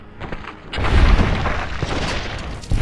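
A suppressed sniper rifle, Christine's COS silencer rifle from Fallout New Vegas, fires once, a dull heavy boom swelling and rolling out over a couple of seconds, with another thump starting at the end.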